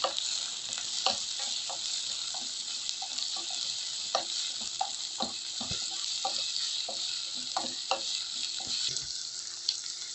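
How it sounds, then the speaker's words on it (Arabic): Green chilies and bell peppers fry with onions in a pan, a constant hiss broken by regular scraping knocks of a spoon stirring, close and unaccompanied by talk. "هننزل بالفلفل الاخضر اللي هو الحراق مع الرومي، وهنفضل نقلب فيه لغايه ما يدبل برده"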